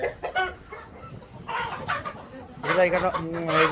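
Chickens cluck and squawk at a poultry farm, several birds calling close by in short bursts, with a louder run of clucking toward the end; people talk in the background.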